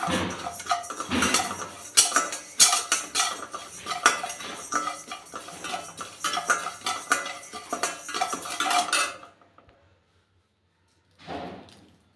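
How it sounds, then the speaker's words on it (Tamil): Raw rice roasting in a pan for Chettinad manoharam sweet, stirred with a metal spoon: a steady run of scraping, clinking utensil sounds up close for about nine seconds, then a pause and one brief final scrape. "சேம் வந்து பச்சரிசி போட்டுருக்கேன். இதையும் நல்லா வறுத்துக்கலாம்."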